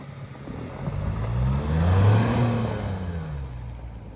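A Nissan Rogue AWD launches hard on snow in sport mode, its engine revving and rising to a peak midway, then easing slightly, with tire and wind noise underneath and no talk.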